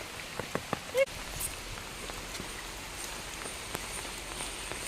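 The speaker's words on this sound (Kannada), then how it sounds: "ಅಡಿಭಾಗದ ನೀರು ತುಂಬಾ ತೋರವಾಗಿ ಬರ್ತಾ ಇದೆ ನೋಡಿ" Water flowing heavily at the base of an areca tree outdoors, a steady wash of rain-like spattering and trickling with a few sharp drips and knocks near the start, moderately faint and even.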